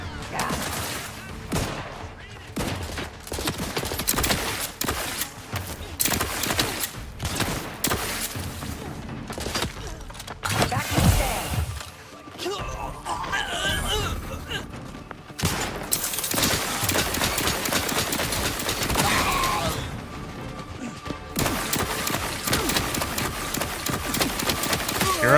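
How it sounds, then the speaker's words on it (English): Plasma pistol fire in The Outer Worlds 2, heard as repeated rapid bursts of shots and impacts in the middle of game combat, loud and dense through most of the stretch, with short lulls between volleys. "Let me try my cool little plasma pistol."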